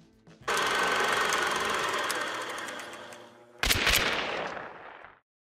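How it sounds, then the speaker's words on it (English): A Winfield 1887 Terminus lever-action shotgun being fired and worked in the video game Hunt: Showdown, a loud close report with a long rattling metallic decay, then a sharp second blast that fades before a cut to silence. "The Winfield 1887 Terminus is a 3-slot lever-action shotgun"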